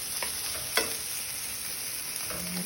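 Vegetables sizzling in a pan on medium heat, a steady close frying hiss with a few light clicks of stirring.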